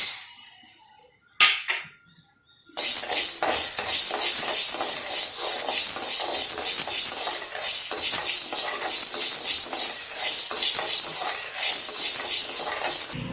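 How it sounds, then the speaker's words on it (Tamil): Green gram dry-roasting in a kadai, a loud, steady, close sizzling hiss that starts abruptly after a few soft clinks and runs continuously to the end. "இப்போ வந்து நான் இந்த பச்சை பயிறு வந்து நல்லா ஒரு 2 நிமிஷம் வந்து நல்லா வறுத்துட்டேன்"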